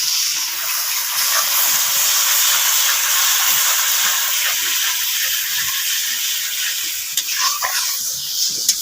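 Water goes into a pan of spice masala that is frying down for a meat curry, and it gives a loud, steady sizzle and hiss close by, with faint stirring scrapes and no talking.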